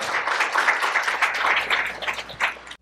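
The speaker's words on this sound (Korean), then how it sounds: "큰 박수로 모시겠습니다" Dense, steady applause from a conference audience welcoming a speaker at an AI tech event, a crackling wash of many hands that holds for nearly three seconds before cutting off abruptly.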